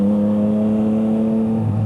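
A Yamaha MT-09 (FZ-09) motorcycle fitted with an Akrapovič exhaust holds a loud, steady engine drone close by, the pitch dipping slightly near the end.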